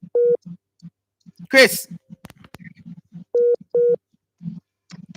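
Repeated electronic phone tones beep in short steady bursts during a reconnecting WhatsApp call, sounding under close talk, with a voice briefly mimicking the beeps.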